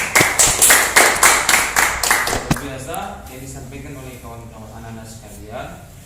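A group of students claps in a steady burst of sharp, close applause for a few seconds during a school group counseling session, then it fades and a voice talks.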